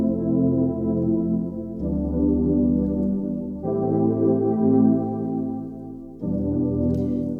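Synth chords played in held chunks that change every couple of seconds, a warm, thick tone at steady volume with no talking.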